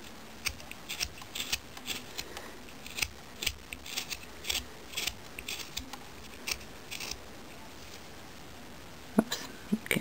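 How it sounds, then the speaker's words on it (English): Scissors trim the material of a hat, giving a series of crisp, close snips at an irregular rhythm over a faint steady background hiss, with no talking. "we're going to keep trimming this until I get it close to those lines"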